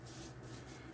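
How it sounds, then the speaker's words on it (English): Hands rubbing and pressing cure into raw pork belly for smokehouse bacon, giving a soft, faint, steady rubbing swish with slight rhythmic pulses. "pressing this in while I'm rubbing it"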